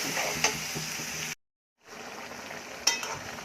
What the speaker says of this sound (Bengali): মাছটা কষানো হয়ে গেছে, শাকটা দিয়ে দেবো।